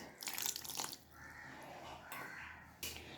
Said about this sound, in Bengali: আগে অল্প একটু জল দিয়ে নিলাম